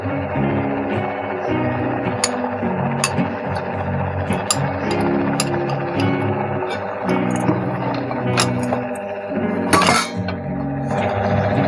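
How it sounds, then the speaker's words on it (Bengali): Thick mango payesh is stirred in a pot on the stove, with a steady background hum and scattered light clinks and scrapes of a spoon against the metal, louder near the end. "মা ভালো করে নেড়ে চেড়ে নিচ্ছে"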